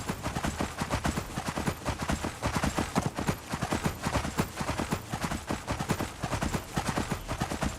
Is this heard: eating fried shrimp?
no